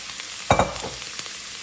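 Leeks and onions for a seafood bisque sizzle in a pot, a soft fry with a couple of sharp stirring knocks near the middle of the short stretch.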